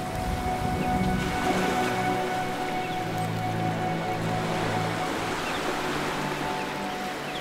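Surf washes steadily onto a white-sand beach at Purnagad on the Konkan coast, a continuous soft hiss of breaking waves, moderately distant, with no voices.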